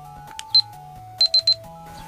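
Yi 4K Plus action camera beeping as it starts recording, a short series of sharp electronic beeps, one then three in quick succession, close up and clear over a quiet background with no talking.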